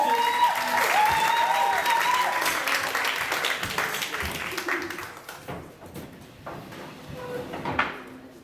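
At a Black History Month performance, an audience breaks into loud applause that starts full and then thins out. A sustained tone rings above the clapping early on, and scattered claps and murmurs follow.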